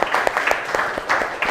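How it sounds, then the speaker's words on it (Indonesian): A classroom group claps for a presenting team during a teaching assessment session, brisk scattered hand claps from a small crowd, close and lively throughout. "Sekali lagi kasih tepuk tangan yang meriah untuk kelompok"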